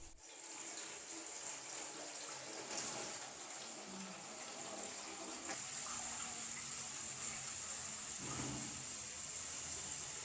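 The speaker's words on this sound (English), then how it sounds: "the alcohol vapor rises, cools, condenses, and flows out through a tube" Distilled rice wine trickles out through a tube from a rural still in Vietnam, a steady, continuous close-up liquid flow with faint background noise.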